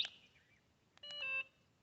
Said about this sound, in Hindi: जो तीसरा आप ये स्विच देख रहे हो जो इलेक्ट्रिक बजर के साथ में दिया हुआ है